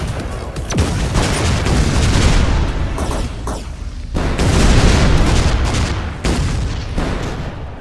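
A sniper shot weapon fires in the Shellshock Live artillery game, sending out a loud run of booming, gunfire-like blasts separated by short breaks and filling the space with heavy impacts, with no speech.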